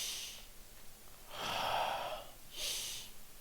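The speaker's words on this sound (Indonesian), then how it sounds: "Nah saya ngap, gak bisa napas, misal kayak malam mau tidur nih saya ambil nafas kayak gini." A person gasps for breath in short, labored pulls, showing the breathlessness of struggling to breathe at night: three separate raspy inhalations, quiet and close, with no talking.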